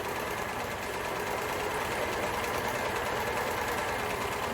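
Overlocker stitching fabric, a dense fast mechanical whirring chatter running continuously and evenly at moderate loudness throughout.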